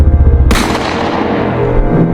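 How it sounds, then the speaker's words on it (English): Gunfire bursts out in a dramatic cave scene, a sharp loud crack that gives way to a rolling, echoing rumble and debris-like clatter fading over two seconds, with no speech over it. "The crack of gunfire split the air."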